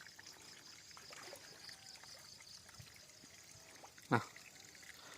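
Water trickles and gurgles steadily into a nearly full pond outdoors, with one brief louder splash near the end.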